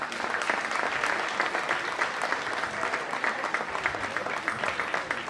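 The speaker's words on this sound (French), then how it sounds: "on va profiter pour les applaudir une dernière fois" A crowd at a lace queen beauty pageant applauds steadily, dense and even handclapping from many people with slight swells, and no voices rise above it.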